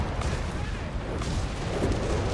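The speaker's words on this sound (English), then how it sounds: "And there goes Stuttgart's with barrage again here" Artillery barrage in the real-time strategy game Company of Heroes 3, a dense run of overlapping booms and rumbling impacts packed together over a couple of seconds.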